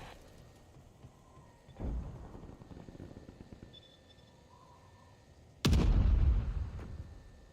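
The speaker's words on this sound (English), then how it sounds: "RCXD has been destroyed." Two heavy booms in a video game, one moderate then a louder explosive blast with a rumbling tail as an RC-XD remote-control car is destroyed, over low background game noise.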